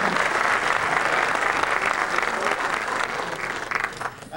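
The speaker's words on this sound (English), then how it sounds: "How about a nice round of applause for Mike Beswick back there?" A playhouse audience at an accordion festival gives drummer Mike Beswick a round of applause, full, sustained clapping from many people that stays strong before easing slightly near the end.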